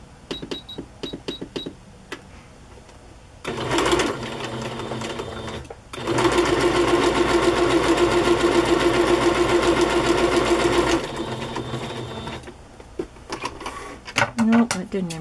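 A sewing machine stitches through a handmade chocolate-themed journal in two long, steady runs of loud, close mechanical whirring, with short pauses and faint handling sounds between and at the ends.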